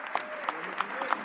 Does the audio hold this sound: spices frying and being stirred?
no